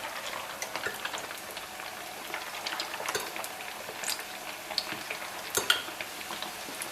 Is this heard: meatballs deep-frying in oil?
yes